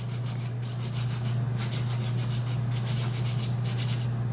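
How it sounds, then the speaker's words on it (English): Steady, rhythmic scuffing of sandpaper rubbing back and forth over the outside of a turned pen barrel, close up, with a constant low hum underneath. "lightly scuff the barrel on the outside"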